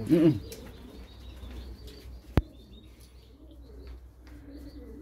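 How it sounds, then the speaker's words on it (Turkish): Aziz's pigeons in Islahiye, Gaziantep, coo softly in a dim loft, a low murmuring under faint background noise, broken once by a sharp knock. "bugün Aziz Abe'nin kuşlarını çekiyorum"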